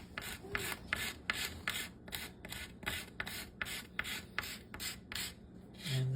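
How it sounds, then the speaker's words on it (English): A sharp knife scrapes along the wooden limb of a child's bow in a steady run of about a dozen short, rhythmic rasping strokes, close and alone, ending with a lower thump. "now I'll just kind of touch it up with a sharp knife"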